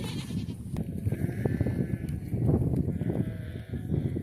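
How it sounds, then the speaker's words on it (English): Goats bleating on a farm, several overlapping calls at moderate distance over continuous barnyard background noise. "I better go feed the goats. They're really mad I fed you guys before them."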